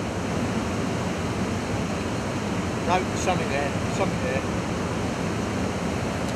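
Heavy water pours steadily over a river weir, a dense continuous roar heard from a boat on the water, with a few brief voices breaking in midway.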